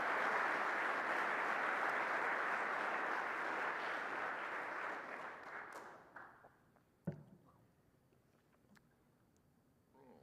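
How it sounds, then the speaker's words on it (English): At a university state-of-the-university address, a hall audience claps in a full, even burst that thins out around the five-second mark, leaving a few scattered late claps and a sharp knock in near-quiet. "I have to give that a round of applause"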